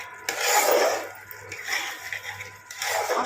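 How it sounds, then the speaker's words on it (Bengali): Small potatoes with spices and a splash of water are stirred in a pan for a shrimp curry, scraping and sloshing in uneven close strokes against a faint low hum. "মশলার সঙ্গে একদম ভালোভাবে কষিয়ে নিচ্ছি"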